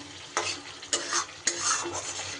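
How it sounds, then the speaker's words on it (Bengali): Fried potatoes sauté with spice masala in a pan, a steady sizzle broken by three sharp scrapes of a spoon stirring them up close. "আলুগুলো দিয়ে মশলার সাথে একটু বেশি সময় ধরে কষিয়ে নেব।"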